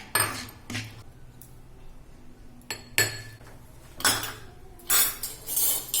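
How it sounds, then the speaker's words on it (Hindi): A spoon transfers freshly cooked wheat-flour panjiri from the pan into a bowl, giving a few sharp metallic clinks and scrapes spaced irregularly, with quiet pauses between them. "1 कटोरी में इसको निकाल लेना है"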